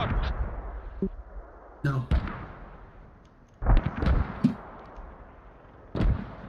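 Mortar rounds land in the military shooter game Squad during a milsim event, several heavy booms at irregular intervals, some nearer and sharper, others duller and farther off, with brief voice chat between them.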